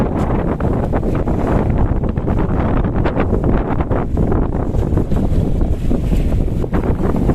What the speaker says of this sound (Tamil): அதோட காற்று தான் கடலுக்கு வந்துருக்குங்க